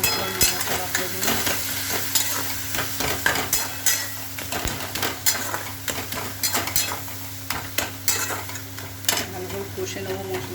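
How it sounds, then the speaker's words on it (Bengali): Coriander and cumin powder fry in a pan while a utensil stirs and scrapes in quick repeated strokes over a steady sizzle. Metal clinks against the pan throughout, close and fairly loud, with no voices. "ধনের গুঁড়ো, জিরের গুঁড়ো, ভালো করে নাড়াচাড়া করে দেবো।"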